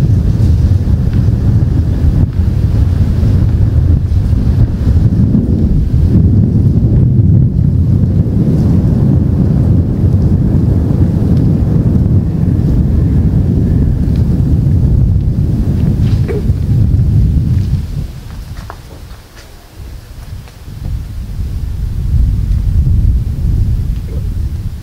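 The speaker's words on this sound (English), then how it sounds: "It's really windy up here," Strong wind roars and buffets the microphone continuously inside Park Tunnel in Nottingham, a loud low rumble that briefly eases before gusting up again.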